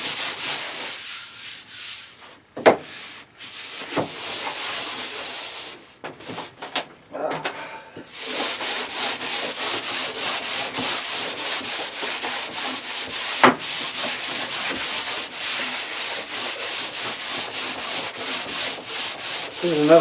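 Hand sanding of a shellac finish on an MDF assembly table, with irregular rubs at first and then a steady run of rhythmic back-and-forth strokes, close and fairly loud.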